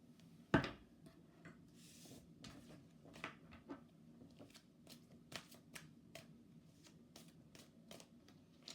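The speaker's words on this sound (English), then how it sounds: "so I have to hand shuffle them" Oversized tarot cards are shuffled by hand, making soft papery slides, riffles and light taps, with one sharper knock near the start; quiet and close, with no talking.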